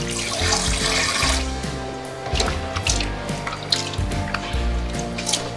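Oysters are rinsed under a running tap, with water splashing and gurgling in a sink, close and fairly loud. The flow stays constant, with the shells shifting and dripping as they are handled. No one speaks.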